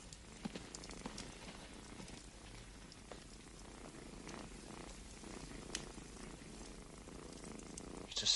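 A cat purring close by, a soft, steady low rumble with a grainy, rain-like texture, faint and continuous with no voices over it.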